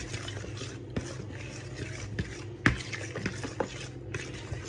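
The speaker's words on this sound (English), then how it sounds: "After you want to mix this real good until it gets nice and well incorporated." Banana chocolate chip muffin batter is stirred by hand in a bowl, a close, soft wet churning with scattered scrapes and one sharper knock of the utensil against the side, no talking.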